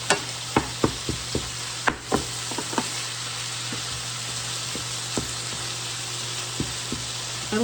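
Ground beef browns in a hot pan for a crockpot lasagna, hissing with a steady sizzle while a spatula breaks it up, making repeated sharp taps and scrapes against the pan. No one talks.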